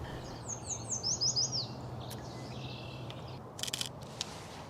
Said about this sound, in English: You can probably hear all the birds here, especially the warblers.